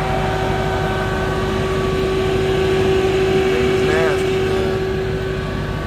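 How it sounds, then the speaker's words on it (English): A 797 hp widebody Dodge Challenger Redeye sits in track mode, its cooling fans and idling engine giving a steady, loud droning hum with a constant tone that holds throughout, and a brief warbling sweep near the end. "it's got the track mode on, so it's cooling down the engine extra"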